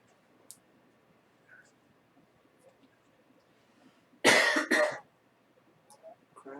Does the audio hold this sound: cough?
yes